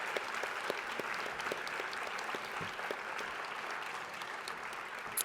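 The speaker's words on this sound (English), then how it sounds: "Please join me in a round of applause for our Founders Week award winners." Audience applause for university Founders Week award winners at a state-of-the-university event, a steady dense clatter of many hands clapping throughout, fairly even in loudness from start to finish.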